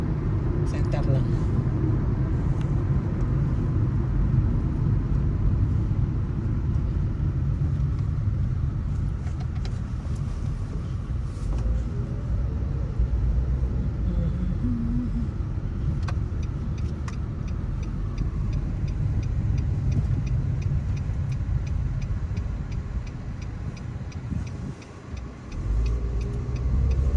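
A car drives along a road with a steady, loud engine and road rumble running throughout, while an instructor coaches the driver to keep the car centered in the lane.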